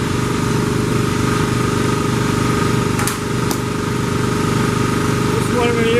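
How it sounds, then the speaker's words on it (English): A die grinder fitted with a wire brush runs on the firewall of a 1969 Chevy C10, a loud steady high whine holding throughout with a brief dip midway, while someone speaks over it. "This is what I'm going to use, the wire brush and a die grinder."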